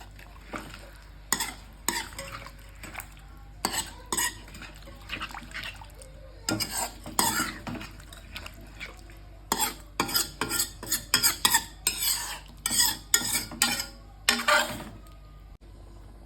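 Shankar fish curry being stirred in a pan with a little water, a run of close scraping and stirring strokes with a soft sizzle underneath, coming in irregular bursts with brief pauses, no voices.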